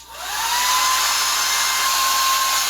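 A wall-mounted Conair hair dryer, model 134NR, whirs steadily on its low setting, rising quickly to a constant airy rush with a faint whine on top.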